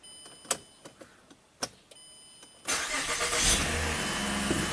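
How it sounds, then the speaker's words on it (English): Several faint clicks and clunks lead up to a Mazda car engine cranking and catching, then settling into a steady, close running hum. "Let's just fire up the car and see what fuel pressure it has when it's running."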